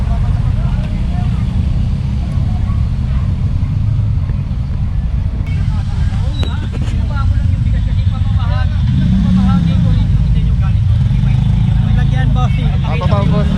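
Motorcycles and tricycles travel along a road, producing a continuous close engine rumble and traffic drone under people talking.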